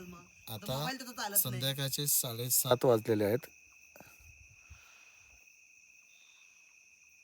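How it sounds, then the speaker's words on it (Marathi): Crickets chirp at night in a dark village near Tapola, Mahabaleshwar, keeping up a steady, high, unbroken trill for the whole stretch. A person talks over the first half, then the insects carry on alone. "रातकिड्यांचा आवाज येतात"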